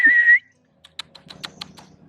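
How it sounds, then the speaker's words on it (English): A person at a zoo whistles to call an orangutan: one sustained whistle note held for about a third of a second, followed by faint, scattered clicks and ticks. "I literally just whistle"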